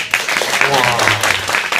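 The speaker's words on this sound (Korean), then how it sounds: "박수 부탁드립니다." An audience claps at the end of a design lecture, with steady close clapping from a crowd that carries on through the short moment while a voice speaks over it.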